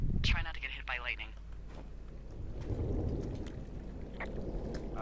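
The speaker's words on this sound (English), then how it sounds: "Yeah, I've got eyes on a storm out to the north." Thunder from a storm in the video game Firewatch, a low rolling rumble that swells in the middle and fades, following a brief voice at the start.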